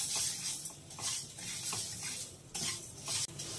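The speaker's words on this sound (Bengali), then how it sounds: "মুগ ডাল একটু ঘন ঘন নাড়তে হয়" Mung dal is stirred as it dry-fries in a pan, a steady scraping and rustling of a utensil against the metal with soft sizzling underneath, faint and continuous.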